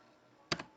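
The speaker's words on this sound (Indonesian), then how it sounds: "Selanjutnya, ketikkan localhost" A computer keyboard being typed on, heard as a quick pair of sharp key clicks close to the mic after a stretch of quiet room hiss, with no talking.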